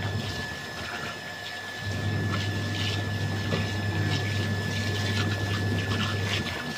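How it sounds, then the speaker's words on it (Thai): Water pouring into a washing machine drum loaded with trousers, a steady rushing flow with a low motor hum that strengthens after a couple of seconds and runs on continuously. "เดี๋ยวเพิ่มกางเกงเข้าไปอีกนี่เปิดน้ำให้มันท่วมเลยนะ"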